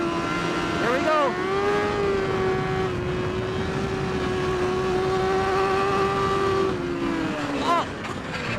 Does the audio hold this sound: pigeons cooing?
no